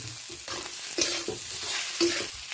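Boiled potatoes and cumin seeds frying in a pan make a continuous sizzle, with rhythmic scrapes and knocks of a stirring spoon roughly every half second.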